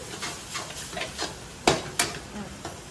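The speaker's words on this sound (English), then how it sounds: "Keep stirring all the time until the sauce is gone." Pad thai noodles are stirred in sauce in a pan at a Chiang Mai cooking school, a soft background sizzle under repeated scraping strokes of the utensil, with two sharper knocks near the middle.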